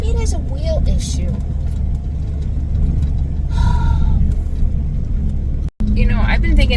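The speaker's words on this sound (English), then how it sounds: "It sounds like something churning in the axle." A steady low rumble of a moving car with an underlying churning, grinding drone from the axle, loud and continuous, with a brief dropout near the end.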